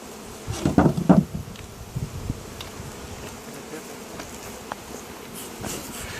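A steady hum of many honeybees buzzing around hives during honey harvesting, close and continuous, with a few louder knocks and thumps near the start as hive roofs are handled.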